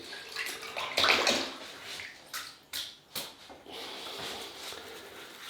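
Tap water runs in short, faint bursts to wet a shaving brush before lathering Barrister and Mann Spice shaving soap, with no talking.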